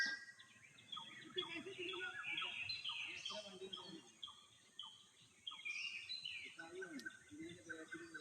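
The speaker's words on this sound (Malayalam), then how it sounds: "പിന്നെ ഒരു പക്ഷികളെ സൗണ്ടൊക്കെ കേൾക്കട്ടോ" Birds sing in the Karulai forest, with many overlapping chirps and tweeting calls at close to moderate distance over a faint insect hum, continuing throughout.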